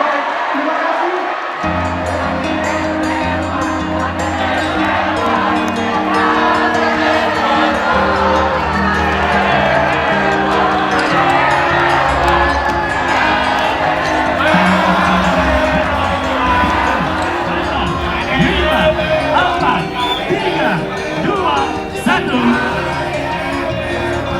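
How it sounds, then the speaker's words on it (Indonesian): Loud crowd cheering, whooping and shouting fills a West Java 2024 gubernatorial debate hall, a dense sustained roar with music-like tones underneath and scattered voices calling out throughout. "Berikan tepuk tangan yang meriah untuk seluruh pasangan calon gubernur dan wakil gubernur Jawa Barat 2024."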